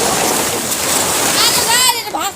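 Water gushing from a pipe during an outdoor bath, a continuous splashing wash, with voices talking over it near the end.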